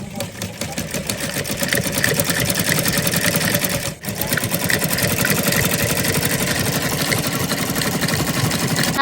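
A sewing machine stitches a cover in steady, fast mechanical chatter, loud and close, with one brief pause before running on continuously.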